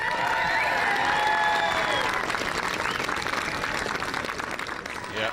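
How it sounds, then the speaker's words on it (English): Audience at Britain's Strongest Man 2008, a strongman competition heat, applauds and cheers loudly and steadily, a dense wash of clapping with scattered whistles and shouts that tapers slightly toward the end. "Ladies and gentlemen, give him a huge cheer."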